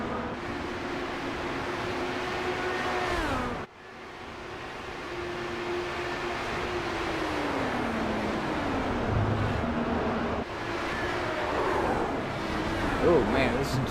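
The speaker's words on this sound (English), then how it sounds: "listen to those cars go around" IR18 race cars lap Watkins Glen in an iRacing esports event, their engines droning and shifting pitch as they pass, under continuous commentary.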